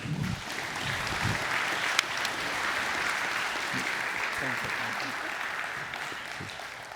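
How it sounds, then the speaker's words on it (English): A church congregation breaks into sustained applause, a dense even patter of many hands clapping that holds steady for several seconds and fades slightly at the end, heard indoors at moderate level. "Could you give them a round of applause?"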